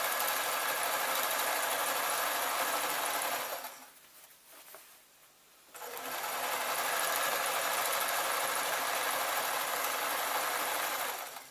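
A sewing machine stitches a satin scarf in a steady, close, loud mechanical whir, stopping for about two seconds midway before running on evenly, with no talking.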